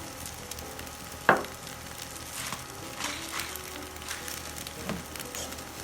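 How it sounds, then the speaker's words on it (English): Turnip greens cook down in a pan with a soft, steady sizzle. One sharp clink from the pan is followed by faint stirring sounds, fairly quiet and close, with no voices. "That's enough turnip greens to fill up the whole pan. And you guys will see how much is left once they cook down a little bit"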